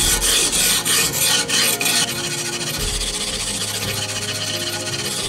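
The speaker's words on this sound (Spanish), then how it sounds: "Se va comiendo la pintura." Loud, close rasping of wet sandpaper sharpening a painted knife blade: quick rhythmic back-and-forth strokes at first, then a steady continuous scraping rub.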